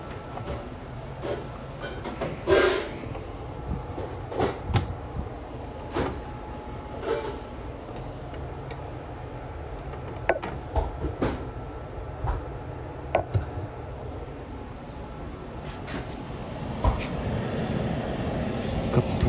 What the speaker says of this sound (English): Compressor runs, fan runs.